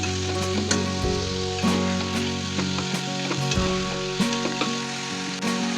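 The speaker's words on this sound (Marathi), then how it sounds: "मग आपण ह्याच्यात कांदा घालूया. कांदा चांगला लाल होईपर्यंत परतूया." Onion fries in hot oil with garlic already in the pan, making a steady close sizzle with light crackles over a continuous tonal backdrop, and no one speaking.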